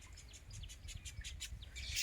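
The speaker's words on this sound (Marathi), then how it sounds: "चिमण्या पण पिवळ्या कलरच्या पांढऱ्या कलरच्या वेगवेगळ्या कलरच्या चिमण्या छोटे छोटे पक्षी" Small sparrows chirp in quick, repeated bright tweets, fairly close, over a low background rumble with no talking.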